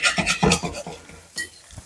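Mezhukkupuratti, a Kerala vegetable stir-fry, stirred in a pan with scraping, clattering utensil strokes in a quick uneven rhythm, close and fairly loud.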